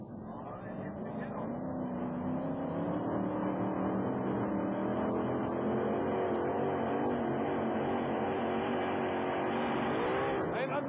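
Temporary Insanity, a monster truck at a 1991 USHRA show, roars through a pull-off at Anaheim, its engine a loud, sustained, rising drone under crowd and arena noise, with announcer-like talk over it.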